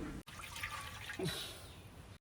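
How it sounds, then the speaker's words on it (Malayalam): Water poured by a child at a home setup for making virgin coconut oil over a fire, a steady trickling, splashing wash with two brief gaps, fairly close and moderately loud, with no speech. "ഒരു കുട്ടി വെള്ളം ഒഴിക്കുന്നു"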